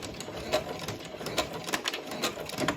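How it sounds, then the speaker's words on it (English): A home sewing machine stitches across an oven mitt seam, giving a quiet run of light mechanical clicking and whirring with a few sharper taps, moderately close, with no talking. "we're just trying to sew that down now"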